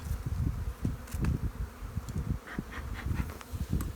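Honey bees humming around an open hive frame during a colony check, a steady low buzz with sharper rises as individual bees fly close past, no voices.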